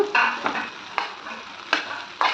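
Okra curry cooking in a pan, with a quiet sizzle broken by several short scraping stirs at uneven intervals, heard close up and without any voices.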